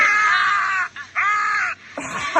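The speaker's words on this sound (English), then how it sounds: "Listen to those screams." Shrill, wavering screams from a character in The Sims video game, three sustained cries separated by short gaps, then a rougher, lower burst at the end, loud and close.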